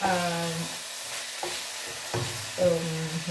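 Tomatoes, onion and ginger cook in a pan with a steady close sizzle, interrupted by a few short stirring scrapes and clacks; faint tonal hum underneath, no talking.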